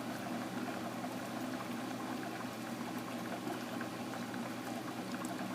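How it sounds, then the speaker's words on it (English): Liquid clay slip pours steadily into a plaster bead mold, a continuous soft bubbling, gurgling flow at low level with no talking. "And now we can pour the second side of the mold."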